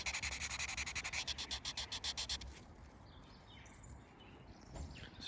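Hand sanding to smooth chipped paint edges on a Mercedes Vito W447 van, rapid rhythmic back-and-forth rasping strokes close up for about two seconds, then quiet outdoor ambience with faint birdsong.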